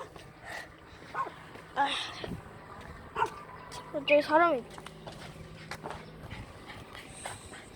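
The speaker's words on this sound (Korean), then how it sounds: "진짜 만져달라고 겁나 짖네" A dog barks in short bursts, wanting to be petted, with a few yips and whimpers at mid distance while a person talks over it.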